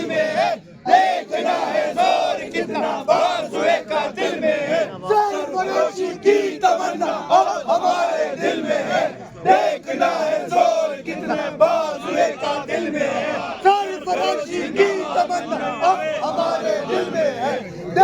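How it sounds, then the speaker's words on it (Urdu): PTI workers chant slogans in unison outside Adiala jail at night, a loud, continuous crowd roar with rhythmic shouted bursts and overlapping voices throughout. "پی ٹی آئی ورکر نعرے بازی کر رہے ہیں"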